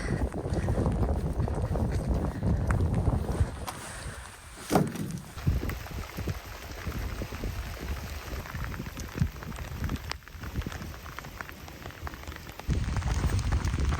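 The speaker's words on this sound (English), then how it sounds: "True to form, it started raining and I didn't bring my waterproof trousers." Steady rain patters on a surface with gusty wind buffeting the microphone on the Isle of Skye, Scottish Highlands, a continuous outdoor wash of noise throughout.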